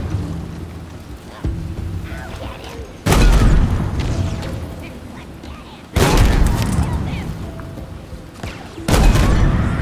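Grenade explosions in the video game Halo Infinite: three loud, sudden booms about three seconds apart, each a sharp full-range blast that trails into a rumbling, debris-filled decay over constant combat noise.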